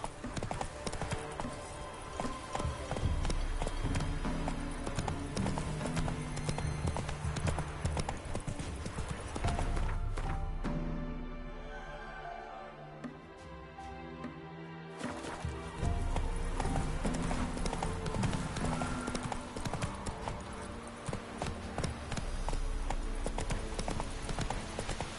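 Hooves of the horse Roach clip-clop at a rapid, rhythmic gallop in the Witcher 3 video game. The pounding is steady and fairly loud, eases briefly midway, then resumes, with an occasional whinny and no talk over it.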